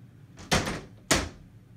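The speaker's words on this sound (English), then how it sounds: "make sure you close those doors." Doors being shut at home during a child's morning routine: two distinct closing thuds about half a second apart, close and fairly loud, with quiet room sound around them.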